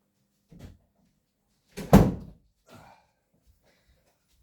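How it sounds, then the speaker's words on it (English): A kitchen door is pushed shut with one solid thud in the middle, after a soft bump and followed by a faint click of the latch, in an otherwise quiet room. "I'm going to shut that kitchen door."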